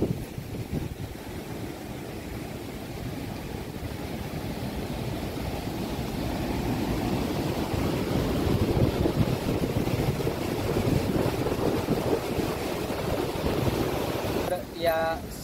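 Water released from the Sina Kolegaon dam into the Sina River at about 1694 cusecs, a steady broadband rushing roar that swells slightly over time, with wind buffeting the microphone and no voices.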